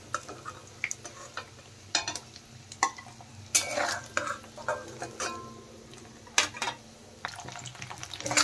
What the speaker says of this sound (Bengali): পনির ভাজা হয়ে গেছে